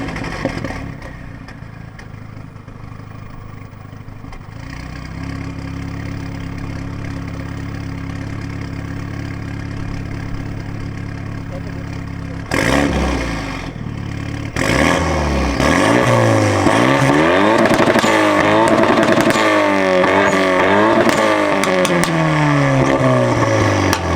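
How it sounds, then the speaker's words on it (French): A Renault Mégane 3 RS Trophy R idles with a steady, low rumble for about twelve seconds, then blips, and then revs repeatedly with loud rising and falling sweeps. "On va vous faire écouter le bruit de la voiture"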